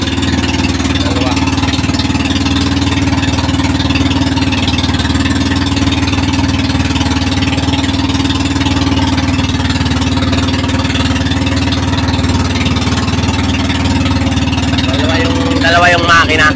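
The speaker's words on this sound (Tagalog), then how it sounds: "dalawa po yung makina nitong bangka namin" Twin outboard engines on a motor boat drone loudly and steadily throughout, a dense close mechanical roar with voices talking partly masked beneath it.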